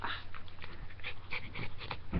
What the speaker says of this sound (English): There's the other dog.